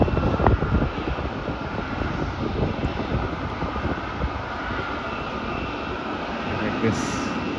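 A Qantas airliner taxiing at Melbourne airport, heard as a broad, steady jet-engine rumble and roar from nearby that stays constant throughout.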